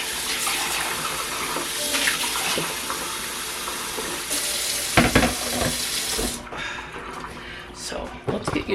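A kitchen faucet runs steadily while a bread bowl is washed at the sink, with clinks and scrubbing splashes, and the flow shuts off near the end, leaving scattered dish sounds.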